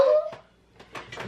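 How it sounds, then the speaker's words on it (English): A dog gives a few short, soft whimpers and whines, close by, with brief pauses between the cries. "That is my dog."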